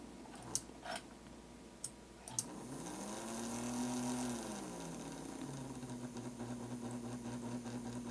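Electric motor of a model train locomotive, a Second Royal Blue, hums faintly and steadily at low speed, with a pitch that rises and falls once. A few light clicks come early, and the whole sound stays quiet and close.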